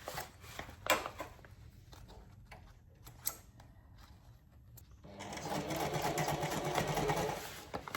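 A sewing machine double stitching seams on a cable bag runs in short bursts of close, steady mechanical whirring, with small ticks and clicks between stops and a longer, louder run near the end.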